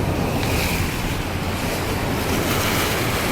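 Steady roar of sea waves rolling onto the shore, mixed with heavy wind buffeting the microphone, loud and continuous with no voices.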